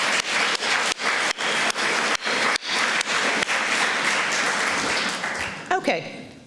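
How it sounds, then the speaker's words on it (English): An audience at an event claps together in a sustained, even wash of applause that tapers off near the end. "So a round of applause to them."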